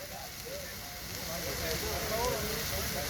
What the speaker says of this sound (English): snap, crackle, pop.